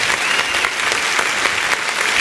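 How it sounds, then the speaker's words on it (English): Audience applause at a Movers & Shakers event, a dense, steady burst of many hands clapping close and loud for a couple of seconds, with no talking over it. "Give them up another clap."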